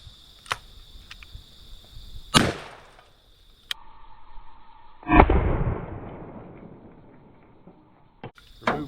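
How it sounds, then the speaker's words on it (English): Two sharp, loud blasts from a 410 bore shotgun loaded with number 4 shot, fired at a toy outdoors, each crack followed by a decaying rumble, with faint clicks and handling noise between shots. "I'm going to use the number 4 shot,"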